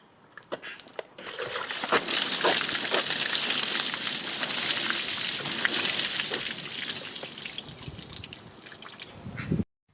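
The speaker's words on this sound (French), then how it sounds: "Allez, c'est parti, on met de l'eau." Water from a bucket splashes and pours over the trunk of a 2006 Audi A3, a broad continuous wash with dripping and trickling that runs loud for several seconds before cutting off.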